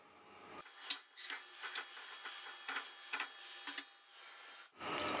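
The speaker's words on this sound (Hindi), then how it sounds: "ऑयल गर्म हो गया। सबसे पहले इसमें गोल मिर्च डालूंगी। ये थोड़ी देर लगाती है फ्राई होने में।" Black peppercorns frying in hot oil in a pot for a creamy moong dal, a steady soft sizzle broken by scattered sharp pops and crackles close by, with no talking.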